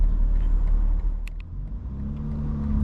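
A 900hp 2025 BMW M4 Competition xDrive cruising in comfort mode with exhaust valves closed, giving a subdued low engine rumble from inside the cabin that swells slightly near the end, with a few small clicks.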